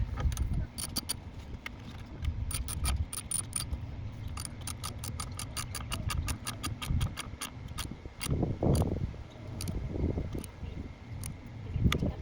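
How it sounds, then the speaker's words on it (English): A ratchet tightens a 10mm socket on a car battery terminal on a 2019–2024 Chevy Silverado, making rapid crisp clicking bursts in repeated runs, close and clear over low background noise. "Get your 10mm socket and tighten it back."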